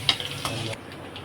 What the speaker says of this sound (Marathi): इथे आपण बारीक कापलेला लसूण घेतलेला आहे, तो फ्राय झाला की आपण यामध्ये ॲड करून घेऊया